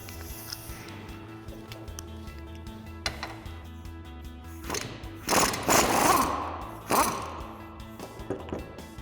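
A spring compressor is loosened on a Ford Bronco front strut during a Fabtech leveling kit install, with mechanical ratcheting clicks and several louder bursts of power-tool whirring and metal rattling, close by.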